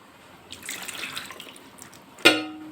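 Raw mango rinsed under running water in a kitchen sink, a soft, steady wash of water followed by a sudden louder splash near the end, close by with no talking.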